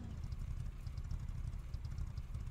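A Gol car engine in a video game gives a faint, low, rough rumble that stays steady without climbing in pitch, heard alone and at a distance.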